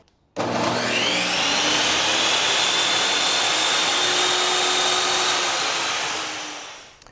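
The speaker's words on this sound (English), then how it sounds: "Let's try the 10-inch table saw." A 10-inch table saw running on an OSCAL PowerMax 2400 power station: the motor starts abruptly, then a loud, steady high-pitched whine holds for several seconds before winding down and fading out.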